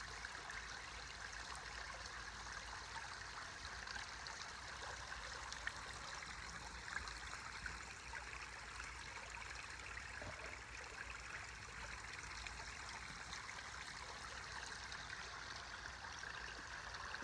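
Water spilling over a small koi pond waterfall, a soft continuous trickle and splash that stays steady and fairly quiet throughout, with no voices.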